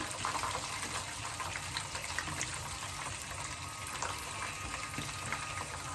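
Peanuts fry submerged in hot cooking oil, giving a steady, busy sizzle and crackle close up that stays even and unbroken throughout.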